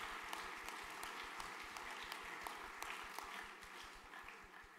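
Applause from a crowd at a junior graduation ceremony for graduating students, a steady fairly faint patter of many hands clapping continuously, heard alone without talk.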